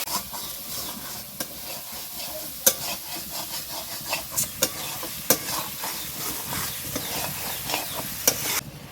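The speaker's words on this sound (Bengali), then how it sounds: "এখন আমি এই মশলার সঙ্গে এগুলোকে ভালো করে কষিয়ে নেব" Cabbage kofta sautéing with spices and Kashmiri chilli powder in a pan, steady sizzle under repeated scraping stirs and utensil clinks at an irregular rhythm, close and moderately quiet, no talking.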